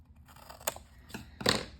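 Scissors make three crisp snips, trimming tape and paper on a junk journal folio, each cut close and distinct in an otherwise quiet room.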